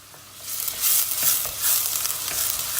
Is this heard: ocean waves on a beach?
no